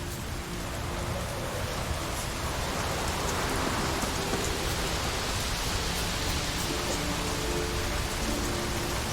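Steady rain pours in The Witcher 3: Wild Hunt, a dense, unbroken hiss of falling drops with a low rumble underneath, loud and continuous.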